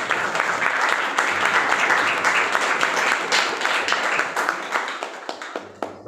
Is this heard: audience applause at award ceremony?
yes